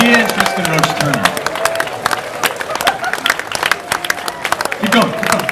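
Audience clapping and cheering at a film Q&A event, scattered sharp claps continuing under a voice speaking over the crowd.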